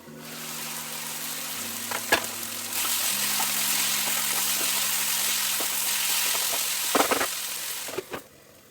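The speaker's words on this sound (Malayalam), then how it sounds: "അടിക്ക് പിടിക്കാതെ തക്കാളിയും സവാളയും ഇടയ്ക്കിടെ നന്നായി ഇളക്കി യോജിപ്പിക്കുക" Tomatoes and onions fry in a pan for chicken curry with a steady sizzle, broken by a few sharp scrapes and knocks of stirring near the end, with a low hum underneath.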